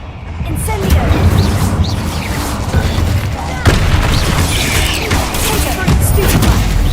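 Incendio fire spell cast in Hogwarts Legacy, heard as loud whooshing bursts and booming impacts layered over game noise, with a sharp thump midway.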